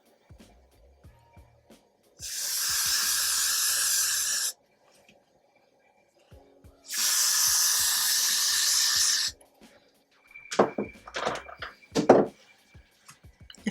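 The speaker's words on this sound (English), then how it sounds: "I just sprayed my scalp." Two long, steady hissing bursts from a spray bottle sprayed onto a scalp while installing a synthetic wig, each lasting a couple of seconds, separated by quiet, followed by faint rustling and handling noises.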